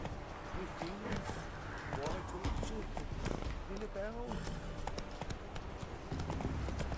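In The Witcher 3, a horse gallops with a quick, rhythmic run of hoofbeats, close and steady, while a voice talks over the riding.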